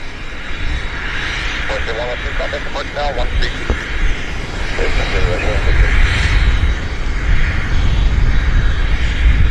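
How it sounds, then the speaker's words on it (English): A Boeing 737-800 or 737 MAX jet departs Vancouver Airport, its engine roar building steadily louder toward the end beneath a voice talking over it. "737-800, I guess. Or is it a MAX?"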